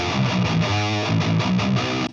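Distorted electric guitar recorded through a Driftwood speaker cabinet, a short loud burst of chugging riff notes with sustained chords, close and raw, cut off abruptly at the end.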